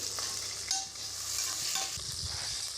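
Onions and curry leaves fry in coconut oil in a cooker for mint rice, giving a steady, close bright sizzle with a few faint stirring scrapes and no voices.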